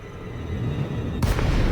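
A spaceship drops out of supercruise in Elite Dangerous, a steady low engine hum suddenly broken by a sharp, loud whooshing burst of broadband noise near the end.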